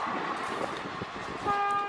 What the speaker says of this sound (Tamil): ட்ரெயினோட பாதுகாவலர் தன்னுடைய வேக்கம் பிரேக்கை வேகமாக அப்ளை பண்ணி ட்ரெயினை நிறுத்துவதற்காக இந்த 3 ஹார்ன் அடிப்பாங்க.